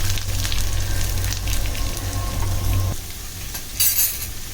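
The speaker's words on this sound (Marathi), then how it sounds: "कांदा परतताना मिठाने कांदा चांगला लालसर परतला जातो" Onion frying with curry leaves in a pan, a close, steady sizzle with a brief stirring scrape and a short flare of louder crackling near the end.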